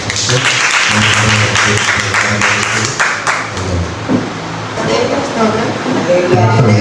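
An audience claps to welcome a guest at a Christian gathering, a loud close burst of applause that thins toward the end, with a voice speaking over it.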